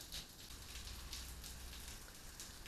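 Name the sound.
pouring rain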